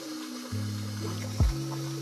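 A Johnson Pump Wiking Power 16 bilge pump on a boat switches on and runs with a steady hum, discharging water through a hull outlet, with a brief splashing surge partway through.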